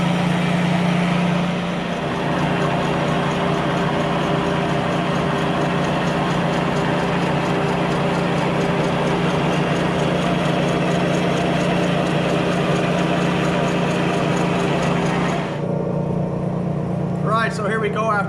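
Milling machine facing a Toyota engine block, a steady loud machining drone with a continuous hum that holds for about fifteen seconds before cutting off abruptly, leaving a faint quiet tail.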